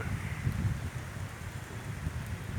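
Steady heavy rain from a storm falls with gusty wind buffeting the microphone, a dense continuous wash of noise with no voices.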